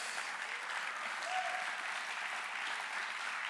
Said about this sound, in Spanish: si le vas a dar un fuerte aplauso, dáselo a Dios.